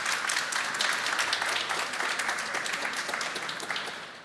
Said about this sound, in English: So can we have a round of applause for this?